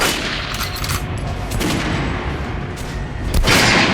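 Rapid gunfire from weapons being tested on training dummies in Metro: Last Light Redux, a dense continuous burst of shots that swells louder near the end, with no talking.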